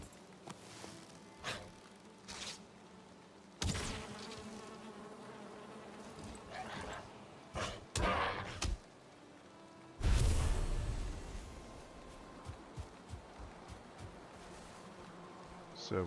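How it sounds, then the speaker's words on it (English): Bees buzz around a beehive in a survival video game, a steady droning hum near the listener, swelling and fading as insects pass. Several louder rustling bursts break the drone. "Oh, another beehive."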